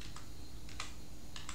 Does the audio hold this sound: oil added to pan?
no